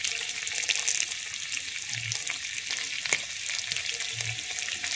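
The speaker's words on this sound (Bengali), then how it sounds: "আমি এবারে একটু কষিয়ে নিচ্ছি" Chopped green chilies sauté lightly in a pan, giving a continuous bright sizzle with occasional soft knocks and scrapes from stirring.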